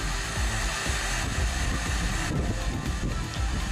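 A heat gun blows a steady, loud, unbroken roar as it softens a cracked plastic car bumper still mounted on the vehicle, holding constant from start to finish with no voices.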